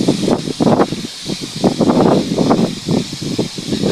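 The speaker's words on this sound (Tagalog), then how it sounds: "Ito ang lakas ng hangin mga kabams oh." Loud gusting typhoon wind from Typhoon Kristine in 2024 roars and rushes in uneven bursts, with rustling leaves and coconut palms buffeting close to the microphone throughout.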